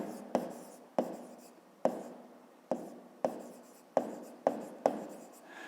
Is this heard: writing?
yes